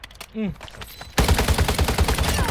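Automatic gunfire from a gun in the mobile shooter Warzone Mobile, a sudden loud burst of rapid evenly spaced shots that runs to the end, after a quieter stretch with a short rising electronic game tone.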